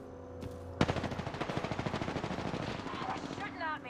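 Enemies in a video game fire a rapid, evenly spaced burst of automatic gunfire, loud and close for about two seconds, followed by fainter game effects.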